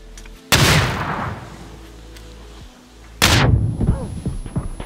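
Two heavy grenade blasts in a video game, each a sudden loud boom that decays into a long rumbling tail, spaced a few seconds apart with faint scattered game noise between.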